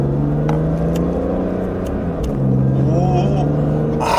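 A BMW M4 engine revs and burbles on downshifts, a steady mechanical drone running underneath continuous conversation inside the car.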